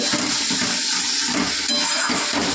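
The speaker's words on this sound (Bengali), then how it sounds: "আমি একটু জল দিয়ে দেবো, ভালো করে কষবে" Water splashing into a pan of spice paste frying and being cooked down, a steady loud rushing hiss with sizzling bursts and scraping throughout, no talk.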